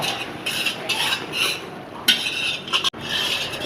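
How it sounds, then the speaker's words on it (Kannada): Semolina roasting in ghee is stirred in a pan with a spoon, giving close, repeated scraping strokes over a soft, continuous frying hiss. "ನಾವು ಫಸ್ಟು ತುಪ್ಪದಲ್ಲೇ ಕಂಪ್ಲೀಟ್ಲಿ ರವೆನ ಕೆಂಪಗಾಗೋಷ್ಟು ಹುರಿತಾ ಇರ್ತೀವಿ"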